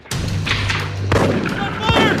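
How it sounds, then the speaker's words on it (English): Gunfire breaking out during a prison breakout, with sharp loud bangs around the middle and end, set against tense background noise and a low hum. "Gunfire!"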